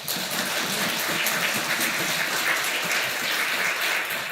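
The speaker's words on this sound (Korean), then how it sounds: "우리 함께 인사 나눌 때 한번 큰 박수로 환영해 주시면 고맙겠습니다" A church congregation gives a warm round of applause welcoming two new confirmed members at a Christmas service, a thick steady wash of clapping filling the room.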